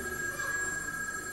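An electric bell rings on and on without a break, a steady metallic tone that sounds faint and somewhat distant, with no voices over it.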